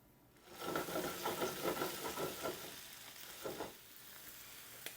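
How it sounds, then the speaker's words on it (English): Italian sausage starting to cook in olive oil in a large skillet, a sudden bright sizzle that swells after a quiet start, crackles with stirring, then settles into a softer hiss. "I'm just going to begin to cook this sausage"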